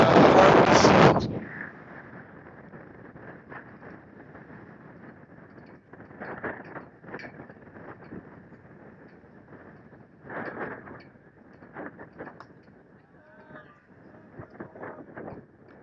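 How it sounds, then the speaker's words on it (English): Wind gusts across an outdoor junior varsity baseball field at Maple Mountain. A heavy buffeting blast opens, then a steady rushing noise follows, swelling in intermittent gusts. "Wind is really picking up here. It's cutting across here, but if you look out in the outfield, it's coming directly at us."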